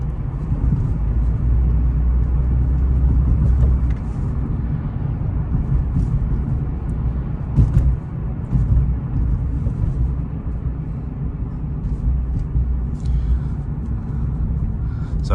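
A 2000 Toyota Camry LE drives along city streets: a continuous, heavy low rumble of engine and road noise from inside the car, steady with slight swells and no talking.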